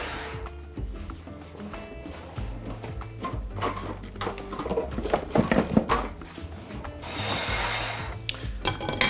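Flour and cocoa powder are sifted through a sieve for brownie batter, giving a steady rasping, rubbing scrape that continues throughout and swells louder near the end, with no talking.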